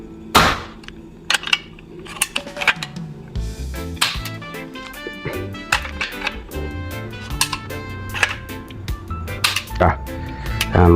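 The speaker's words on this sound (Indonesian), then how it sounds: "Kita lakukan tembakan seperti ini untuk meyakinkan angin benar-benar habis ya." PCP air rifle dry-fired repeatedly to empty leftover air, a series of sharp metallic cracks and clicks at irregular intervals, close and loud, with someone talking in between.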